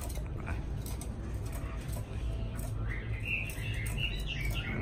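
A caged hwamei (Chinese melodious laughingthrush) sings a run of bright, varied whistled phrases, strongest in the second half, over a steady low background hum with faint indistinct voices.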